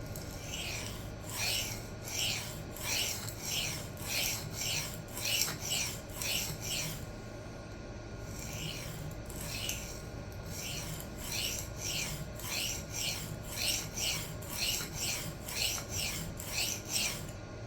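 Repeated rasping strokes of a steel knife blade on an Atoma 140 diamond plate, about a dozen steady back-and-forth passes in two runs split by a short pause, close and clear with no talk.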